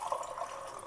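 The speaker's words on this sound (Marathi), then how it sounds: "पाणी टाकतोय." A brief trickle of water poured into garlic paste during grinding, a soft splashing pour heard close and alone.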